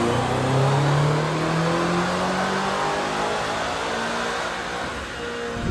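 A tuned BMW engine in a Land Rover Defender Octa revs hard on a dynamometer, giving a loud, steady, rising mechanical roar with a whining tone held throughout, with no talking.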